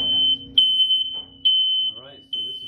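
A Kidde smoke alarm sounds in a basement, a loud, continuous high-pitched electronic tone that carries steadily from start to finish while people talk over it.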